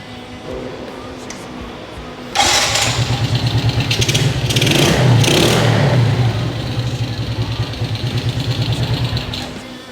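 A restored Suzuki Smash SR motorcycle engine fires up after a low background hum, then idles and revs loudly and steadily close by for the rest of the stretch.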